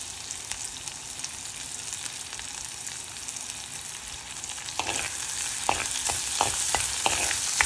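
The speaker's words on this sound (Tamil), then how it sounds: "வெங்காயம் இந்த பொன்னிறமாக வரும் வரைக்கும் கரண்டியால் இப்படி மாறி மாறி கிளறிவிடுவோம்." Small onions fry in hot oil for a Tamil tin fish curry, with a steady sizzle and crackle. Sharper scraping clicks come in the second half as a ladle stirs them.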